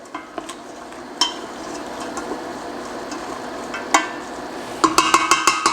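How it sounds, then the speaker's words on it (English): Mirepoix soup vegetables sweat without oil in a pot for a white bean and Swiss chard soup, with a soft sizzle under scraping stirs and a closing run of quick rhythmic clanks of a spoon against the pot. "I'm gonna give this a stir and get that going here."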